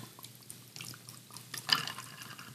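A pre-mixed cocktail, shaken in its bottle, is poured over ice: a faint, close trickle of liquid with light drips and a brief brighter splash near the end.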